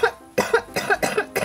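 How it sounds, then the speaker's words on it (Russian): A woman coughs in a quick run of four or five harsh, close bursts, each short and rasping, with brief gaps between them. "Лежит и кашляет."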